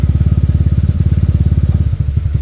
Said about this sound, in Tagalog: isa kasi tumataas din yung idle nila dyan